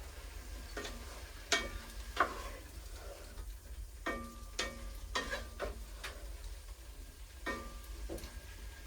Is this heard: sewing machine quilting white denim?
no